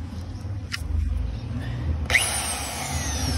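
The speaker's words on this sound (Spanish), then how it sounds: "Prende la grata y las voy puliendo." A bench wire wheel brush polishing dirty spark plugs from a Volkswagen Gol: a low motor hum with a few knocks and scrapes, then a high, steady whine that rises sharply as the wheel spins up and runs on.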